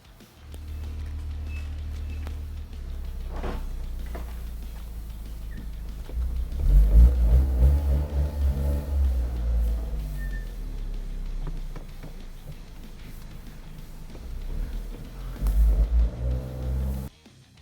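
A 2023 Toyota Corolla GR with all-wheel drive, a Cusco build, idles and then revs as it drives off a trailer. Engine rumble rises and falls with a few throttle blips, close and alone.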